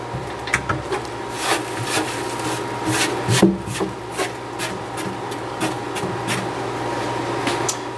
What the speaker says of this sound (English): So I'm going to use this brush. I'm going to get all this excess little bit of gravel out of the way.